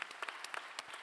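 An audience at a live Italian event applauds, a dense, steady patter of many hands clapping with no voices over it.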